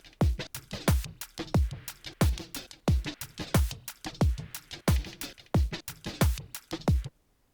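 Full downtempo track with all elements playing together: punchy kick drums with deep pitched-down tails land on a steady beat under bright percussion and synth layers, loud and dense until a sudden stop near the end.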